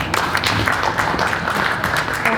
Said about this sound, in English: Thank you to our panel. Let's give them another round of applause.